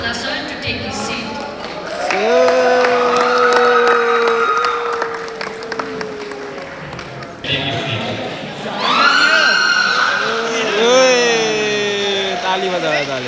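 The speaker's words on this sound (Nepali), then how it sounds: "ताली बजायो ताली बजायो" Audience applause at a secondary school Class 12 farewell program in Pokhara, Nepal, a sustained crowd clapping over music and talk, swelling twice across the stretch.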